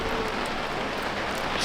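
Steady rain falls outside a camper van parked at a ski resort, a dense, even patter of drops drumming on the surface throughout, close and continuous with no voices.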